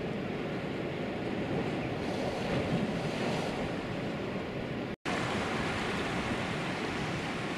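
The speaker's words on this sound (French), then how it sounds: "Des replis de la mer qui vient s'engouffrer ici." Sea surf rushes and roars continuously close by into a cove at Senneville-sur-Fécamp, Normandy, with wind buffeting the microphone throughout.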